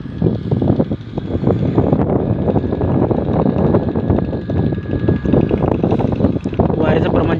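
Strong wind buffets at a work site where paper joints are being laid, a loud continuous roar with rumbling gusts, as people talk in the background.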